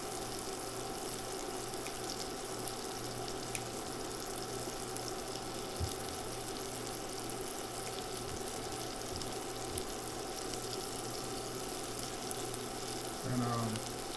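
Garlic chicken bites frying in a pan, a soft continuous sizzle with a low steady hum beneath, fairly quiet and unbroken, no voices.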